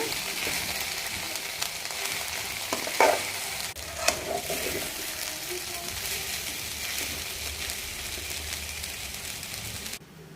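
Okra being stirred and fried with ground masala in a pan, a steady sizzle with a few scraping stirs, close and fairly loud, ending abruptly.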